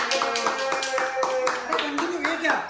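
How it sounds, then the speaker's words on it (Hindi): A family claps hands in a quick, even rhythm at close range while people talk over the clapping. "तालियां तालियां तालियां सब सब आएंगे तभी तालियां"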